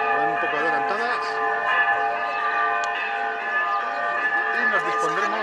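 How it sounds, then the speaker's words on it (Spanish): Church bells ring before Mass with sustained, overlapping metallic tones that hum steadily throughout, with a voice talking in Spanish over them in the foreground. "En este momento están tocando las campanas, un poco adelantadas,"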